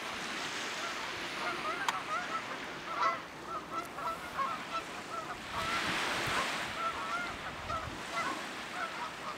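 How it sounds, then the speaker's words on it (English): Canada geese honk repeatedly at a moderate distance over wind and lapping waves along the Kincardine shore in mild December weather, their calls coming in loose bursts. "there's nobody here but me and the Canada geese."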